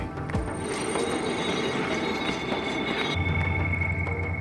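A train rolls along a railway in Sudan with a steady rumbling rattle of wheels and carriages, close and continuous, its tone shifting lower near the end.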